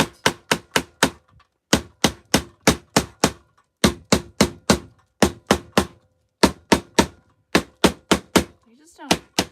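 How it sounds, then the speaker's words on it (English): Repeated sharp hammer strikes drive staples into thin Dollar Tree wooden planks during a craft project, coming in quick close bursts of four to six blows separated by short pauses, loud and crisp. "hammer this down a little bit"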